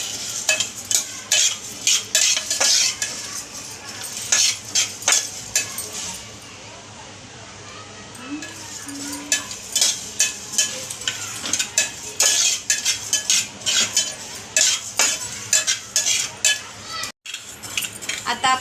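Coriander, fennel and cumin seeds dry-roasting in a pan, with a spoon stirring and scraping them in a quick, steady rhythm of light clinks and faint rustling.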